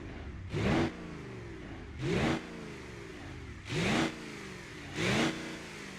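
A diesel car engine with no exhaust in BeamNG.Drive revs four times in even bursts, each a short throaty rise falling back to a low idle, fairly quiet overall.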